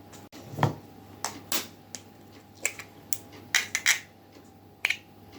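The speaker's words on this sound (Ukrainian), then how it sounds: "Картошечку ми вже картопельку прочистили. Тепер будемо її товкти. Додаємо сюди одне яєчко." Boiled potatoes being mashed with an egg in a bowl, heard as a string of separate clinks and soft knocks from the utensil against the bowl, close and moderately loud, spaced irregularly over a few seconds with no talking.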